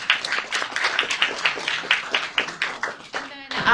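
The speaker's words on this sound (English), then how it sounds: "I would like to give you a round of applause for that" A small audience at a historical society talk claps in a short, fairly sparse round of applause, individual claps distinct and close, fading out at the end.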